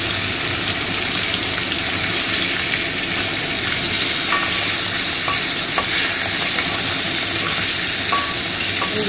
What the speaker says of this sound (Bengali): মাছটাকে ফ্রাই করে নিয়ে তারপরে তোমাদেরকে মাছগুলো ফ্রাই করে উঠিয়ে নিই